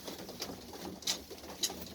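A female pigeon kept by pigeon fanciers in Saudi Arabia coos softly in a low, throaty, repeated rhythm, close by and alone.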